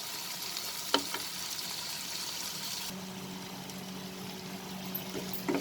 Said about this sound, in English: now we will mix the spices and the tomatoes and cook this till the tomatoes becomes nice and soft